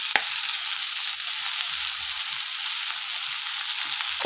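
Sliced onions with salt frying in oil in a pan, a steady close hissing sizzle with faint stirring scrapes and no talk.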